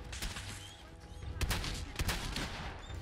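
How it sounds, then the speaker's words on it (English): A caravan shotgun fires in Fallout 4, loud close blasts landing as a few sharp broadband bursts over dense game noise. "Caravan shotgun."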